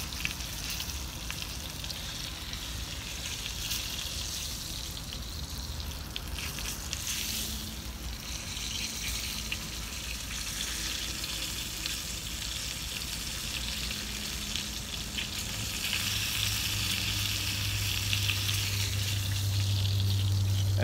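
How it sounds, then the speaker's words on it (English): Fatty edges of a steak searing in a hot pan give a steady, dense sizzle and crackle that runs unbroken throughout, with a low hum rising near the end. "you're just gonna sear it for about 30, maybe 45 seconds tops on each side"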